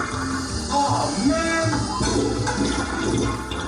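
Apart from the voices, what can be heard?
toilet flush sound effect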